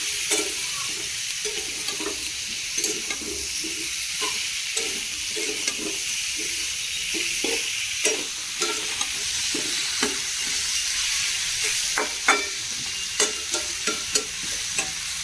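Vegetables sizzle and fry steadily in a hot pan while a spatula stirs them in repeated scraping strokes, close and continuous with no talking.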